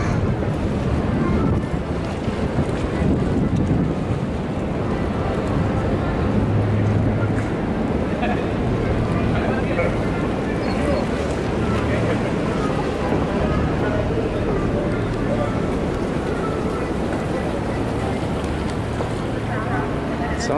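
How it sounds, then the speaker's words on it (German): Small tour boat on the Vltava passing under Charles Bridge in Prague, a continuous rushing of wind and water with a low engine hum throughout, with people talking over it. "Wir fahren jetzt mit unserem Bötchen richtig schön unten durch."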